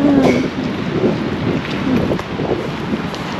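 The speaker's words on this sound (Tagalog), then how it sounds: "Lumakas na talaga yung ulan." Heavy rain grows stronger outdoors, with a dense, loud wash of rain that is buffeted by wind and microphone rumble, alone and with no talk.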